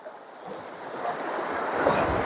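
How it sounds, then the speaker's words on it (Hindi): Fast-flowing flood water rushing past a bridge near Ganganiya station at the Manjhli dam in Bihar, a steady loud roaring wash that swells slightly, heard alone with wind noise on the microphone. "लेकिन यहाँ देखिए आप लोग पानी का रफ्तार देखिए"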